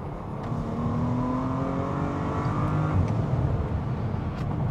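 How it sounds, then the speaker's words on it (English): A Bentley car's engine pulls steadily under gas in Bentley drive mode, a smooth rising growl and whir from inside the cabin, sustained and fairly loud with no talking. "But right now we're gonna give it a little gas here."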